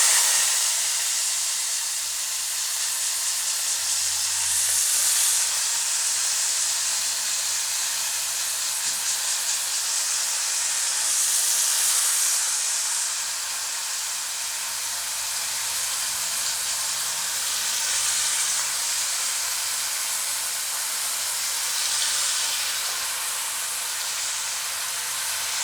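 Bitter gourd sizzling in hot oil, a steady bright hiss that swells and eases slightly over time, close and continuous with no talking.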